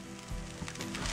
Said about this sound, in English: I'm sure you can hear the sizzling sound.